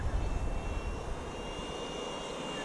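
A Freewing EDF RC jet plane flies at half throttle, a thin steady whine of the ducted fan heard at a distance over faint outdoor background noise, with a brief rumble at the start.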